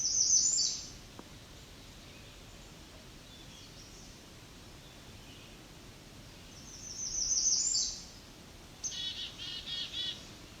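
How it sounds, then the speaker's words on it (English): An American redstart sings in trees, giving short high bursts of song at the start and again near the end, with a quick run of chips just after, moderately distant over a steady hiss of background. "this American redstart is flying around tree to tree, singing, eating bugs"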